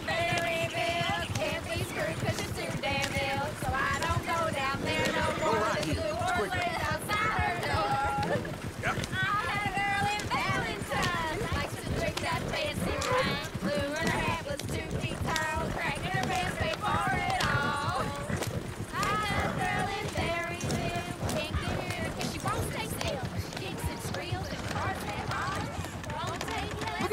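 Horse hooves gallop in the video game Red Dead Redemption 2, a steady rhythmic clip-clop heard throughout beneath a continuous voice.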